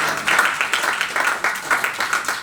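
An audience applauds, a fairly loud, dense patter of clapping that keeps up steadily and swells in small waves.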